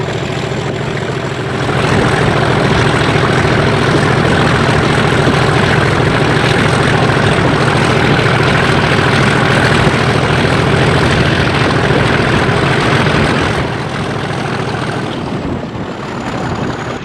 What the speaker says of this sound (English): we treat the few people out on Goodrington Sands to the sights and the sounds of our wonderful Class 37